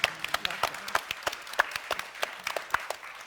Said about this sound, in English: I would like to get a big applause from you for the people in the panel